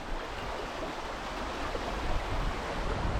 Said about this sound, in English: The river looks amazing.